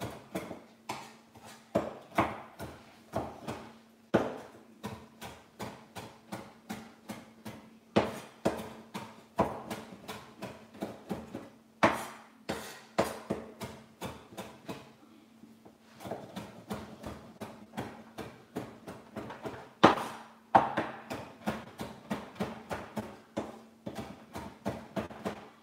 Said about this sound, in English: using your knife, a sharp knife, go through it and finely chop it